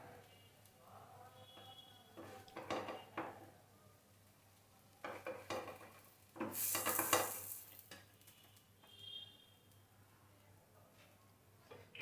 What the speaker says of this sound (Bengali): এই যে দেখেন জালির চাট ভাজা